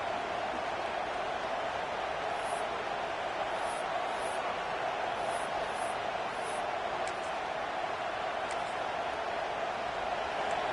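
A stadium crowd in the NCAA 26 college football video game roars in a steady, dense wall of noise that never lets up and carries no distinct voices.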